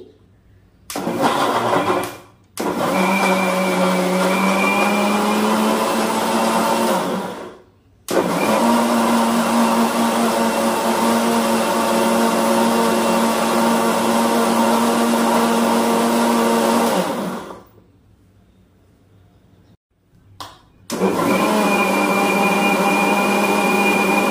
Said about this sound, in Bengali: চলো এবার মিক্সিতে বসিয়ে ঘুরিয়ে তো নিই